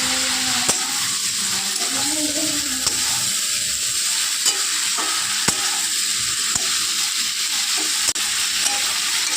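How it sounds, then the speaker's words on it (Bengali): Steady frying sizzle as sugar is stirred through carrots and vegetables in a pan, with a few sharp clinks of the utensil against the pan and a low murmur underneath. "এবার চিনিটা মিশিয়ে নিচ্ছে ভালো করে।"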